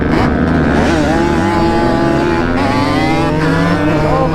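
A 430cc motorcycle engine runs rough, a loud, steady, close droning idle with uneven, wavering pitch throughout and no talking.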